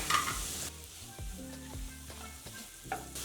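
Chopped tomatoes with a little salt sizzle softly in a pan for beetroot pulao, a quiet, steady frying crackle with a few stirring scrapes and clinks.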